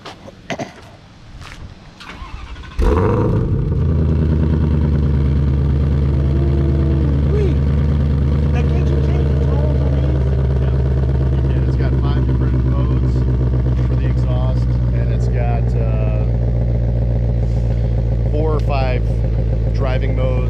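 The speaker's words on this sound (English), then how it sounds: "When you hear the roar from this car right here" Some quiet clicks and handling noises, then a 2020 Ford Mustang Shelby GT500 engine cold-starts loudly and settles into a deep, rumbling idle with occasional revs.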